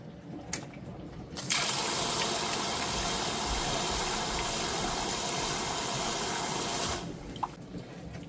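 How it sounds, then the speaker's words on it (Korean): Water runs steadily for several seconds as a saw blade is wetted, a broad rushing stream starting and stopping abruptly, close and alone with no talk. "톱을 물에 좀 적셔놓고"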